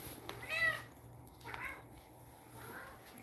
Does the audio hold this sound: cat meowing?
yes